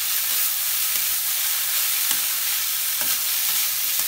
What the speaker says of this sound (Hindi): अब इसमें मैं ये सारी पोहा डाल दूंगी, इसको अच्छे से हम मिक्स कर देंगे।